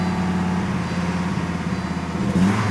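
A Volvo 850 GLT engine runs steadily nearby with a noticeable misfire and poor throttle response, giving a rough, uneven drone that swells slightly near the end.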